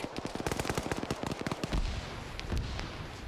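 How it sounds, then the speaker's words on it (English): In an Arma 3 battle, machine guns fire long, rapid bursts of dense, overlapping shots, with heavier booms mixed in as the firing thins out, loud and continuous throughout with no talking. "now you're seeing a machine gunner up here taking this fortification and firing up on the other sectors"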